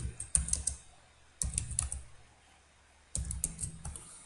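Computer keyboard keys clatter in three separate quick bursts as C code is typed, with short pauses between them; the clicks are close and crisp.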